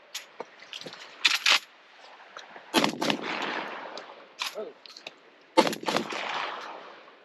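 A Mossberg 930 shotgun fired rapidly with cheap ammunition, giving sharp close blasts in quick clusters with short pauses and mechanical clatter between volleys.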